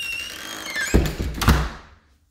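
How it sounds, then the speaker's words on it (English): A house door pushed shut in a home's entry, giving a couple of solid wooden thunks with a light latch click, close and alone, fading into silence. "Close this door real quick."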